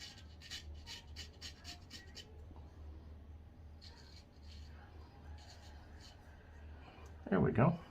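A straight razor slowly scraping across lathered skin, soft raspy strokes in short bursts at close range, faint and quiet, with a louder rustling burst near the end.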